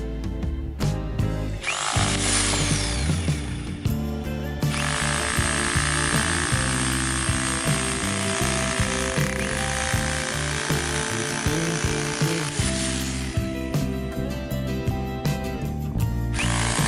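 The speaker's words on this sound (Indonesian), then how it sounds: "sekarang kita tes untuk mode penghancuran beton" A loud rotary hammer in non-rotating concrete-breaking mode pounds continuously at close range, its rapid hammering steady for most of the stretch with brief pauses at the start and end.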